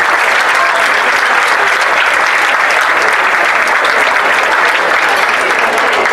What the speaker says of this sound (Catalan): Un fort aplaudiment, sisplau.